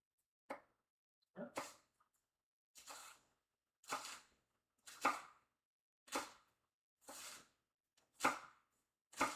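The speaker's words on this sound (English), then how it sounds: "I'm thinly slicing the onions so they will caramelize faster" A knife thinly slices onions on a cutting board, about ten crisp, evenly spaced chops, close and clear against a quiet kitchen.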